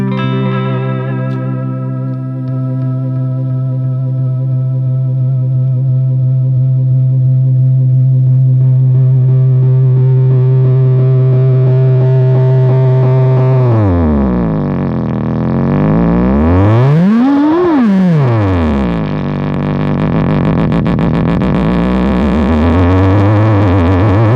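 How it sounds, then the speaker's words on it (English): A sustained distorted guitar tone builds as pedal feedback swells and smears, then pitch sweeps up and down in warbling, spacey glides, loud and continuous. "this extra foot switch just maximizes the feedback, so you can have things hold out and swell"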